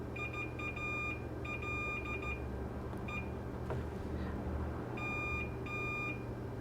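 A multimeter in continuity mode gives short, high electronic beeps in clustered runs while the pins of a faulty USB drive are probed. Pauses separate the runs over a faint steady background hum, and no voices are heard.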